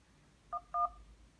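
Two short keypad dialing tones beep from the phone app of an HTC One M7 smartphone, quiet and clean, the second slightly longer, with no talk.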